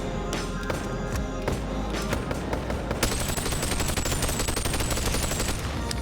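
Gun fitted with a tactical scope firing in Boneworks VR, a rapid string of loud close shots with mechanical clacks, then a denser clattering burst of fire in the second half.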